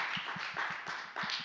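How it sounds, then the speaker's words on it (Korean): One person clapping their hands at a steady, brisk pace during a student online worship service, about eight close, crisp claps in a second and a half with no talk over them. "본인이 박수를 치고 있어요"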